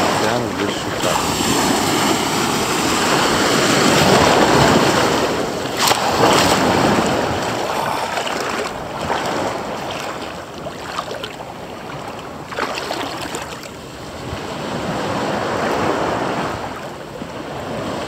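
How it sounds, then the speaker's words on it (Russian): Ocean waves on a beach at Varadero, surf rolling in and washing out in slow swells, loud and close, with heavy wind buffeting the microphone. "Океан здесь шикарный."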